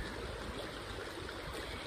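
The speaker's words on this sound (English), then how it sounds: "And here at this creek," A creek flows steadily, a soft continuous rush and trickle of water heard alone with no voices.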